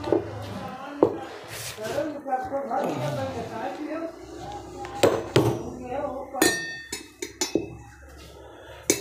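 Metal clinks, knocks and scraping as a jammed, cut shaft is worked out of a home mixer grinder jar, irregular close taps and rattles mixed with someone talking throughout.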